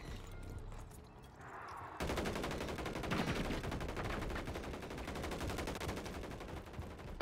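Sustained automatic gunfire in the battle-royale shooter Call of Duty: Warzone, a long, rapid, steady burst that starts abruptly and keeps going near and loud, with faint softer activity just before it.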